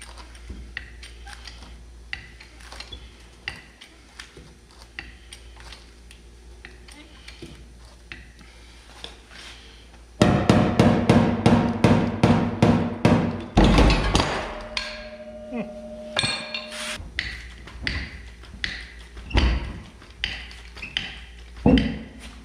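A porta power hydraulic ram pushes out a dent in a car body with a series of rhythmic clicking pumps that speed up and grow louder, followed by scattered metallic clunks and thumps, with someone speaking at times.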